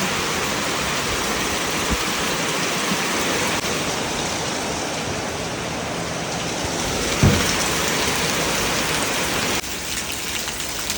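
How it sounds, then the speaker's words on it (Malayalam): Heavy rain pours down steadily on a windy day, a dense, continuous wash of drops close by that stays loud for the whole stretch, with one brief louder splash partway through. "അപ്പയ്ക്ക് വരാൻ പോലും പറ്റാത്തത്ര മഴയാ."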